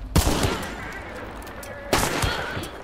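Two loud, sharp gunshots in the multiplayer shooter Hunt: Showdown, one near the start and another about two seconds later, each with a ringing tail over steady game ambience.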